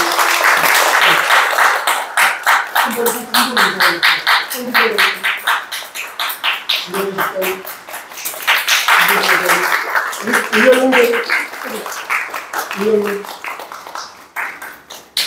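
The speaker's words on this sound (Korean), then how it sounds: "박수 좀 쳐주세요" A church congregation at a Korean Sunday worship service claps during an award presentation, bursts of rhythmic hand claps rising and fading across the room, with a voice speaking over them at times.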